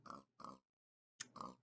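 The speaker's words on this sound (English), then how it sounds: "They are powered by pigs." Pigs in a video game oink in three short, close grunting snorts, two in quick succession, a pause, then a third, faint and alone with no other sound.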